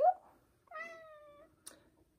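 A cat meows twice: a short cry, then a longer, drawn-out tonal meow, followed by a brief high squeak, with quiet gaps between.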